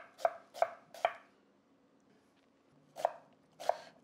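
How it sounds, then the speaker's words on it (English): A knife chops an onion on a cutting board in crisp, evenly spaced cuts: three in quick succession, a pause, then two more, close and clear with no voices. "new to chopping, just follow the little lines in the onions, and that'll help you just get a nice even dice."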